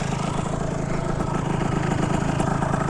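A Phantom F12 scooter with a 70cc engine buzzes at high revs during break-in, a steady, rattly two-stroke drone with a fast pulsing rhythm, loud and close with no talking.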